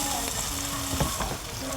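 Bread slices sizzle and fry in the rendered fat of suzuk sausage, a steady close crackling hiss throughout with a few small pops and no talking.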